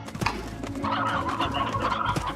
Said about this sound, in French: Voici les poulets.